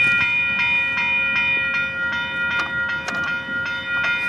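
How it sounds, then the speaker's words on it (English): CN freight train rolling steadily past a railroad crossing with gates down, a continuous rumble and clatter with a sustained bell-like tone ringing throughout and occasional sharp metallic clanks. "There's a second train coming?"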